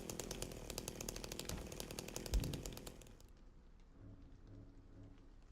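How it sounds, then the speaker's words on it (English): Video game chainsaw revving loudly with a fast buzzing rattle for about three seconds, then cutting off abruptly to leave a quieter ambient background. "when I have the chainsaw equipped"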